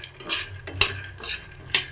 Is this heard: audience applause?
no